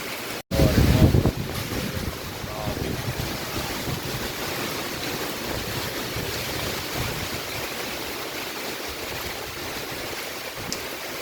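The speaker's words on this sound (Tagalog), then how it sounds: "Grabe yung mga purang hangin, no?" Strong, gusting typhoon wind in Capiz roars continuously and buffets the microphone, with a loud burst near the start and no pause over the whole stretch.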